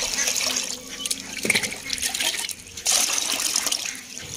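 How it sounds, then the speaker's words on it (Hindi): Water splashes and trickles steadily as it is poured out for ducks, a continuous close wash with a couple of louder surges and faint background noise. "इनको पानी भी डाल देते हैं।"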